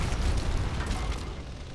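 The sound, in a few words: grenade explosion in a video game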